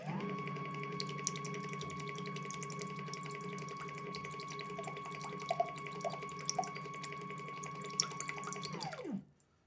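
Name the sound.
SATURO infiltrometer pump purging water through line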